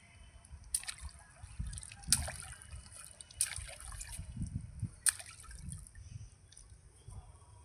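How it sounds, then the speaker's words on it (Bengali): Water splashing and dripping beside someone fishing, with irregular splashes and trickles at moderate distance, a few sharper bursts standing out over a low rumble of background noise. "জলে খালি ছাপাং ছাপাং।"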